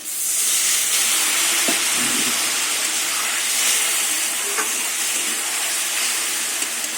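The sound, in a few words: water added to hot pan of frying ginger and spices, hissing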